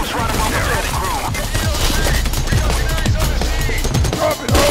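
Rapid gunfire in the heist video game Payday, dense bursts of shots and booms filling the clip, with voices shouting beneath the shooting.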